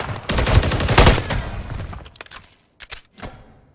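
Rapid bursts of gunfire from Call of Duty, loud and dense for about two seconds, then trailing off into a few scattered separate shots and thuds.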